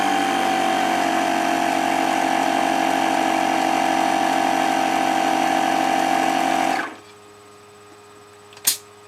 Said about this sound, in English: when I press this button, the air comes in, which hits the tire valve, which fills the bladder